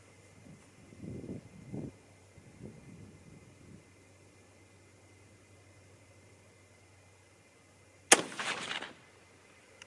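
A single sharp 6.5 Creedmoor rifle shot, Hornady 129-grain or Sierra 120-grain load, cracks loudly after a few quiet seconds of faint handling noises, followed by a brief ringing echo.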